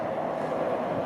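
A TGV high-speed train rushes past in open countryside near Péronne, a loud, steady, broadband roar that holds at a constant level for the whole short moment.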